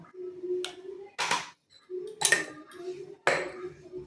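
Prawns being hand-mixed with salt, turmeric, chili, cumin and coriander powder in a metal bowl, giving a few short clinking and scraping bursts with quiet pauses between them.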